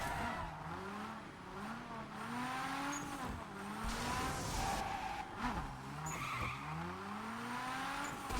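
Car in the racing game Wreckreation sliding on the handbrake, engine revving and rising in pitch with tyre squeal over a steady roar, the revs dropping and climbing again across the run.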